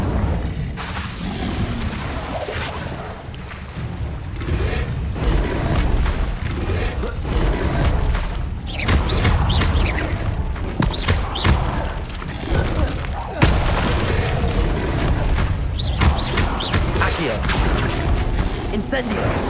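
Fire spells fired again and again in Hogwarts Legacy combat land as dense booms, thuds and crackling impacts layered over busy game music, the hits coming in quick irregular bursts throughout.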